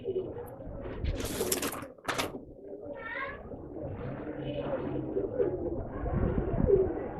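Caged birds at a pet shop give cooing and chirping calls, close by, mixed with shop bustle and brief speech.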